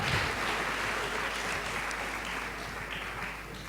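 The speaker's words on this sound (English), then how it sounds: "Please, can we clap for these brave men coming out here?" Audience applause in a lecture hall for the men in the room, a steady dense clapping that fades slightly over a few seconds.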